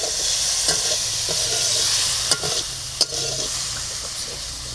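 Broccoli fries in a hot pan with a steady, close sizzle, broken by a few sharp scraping strokes as it is stirred.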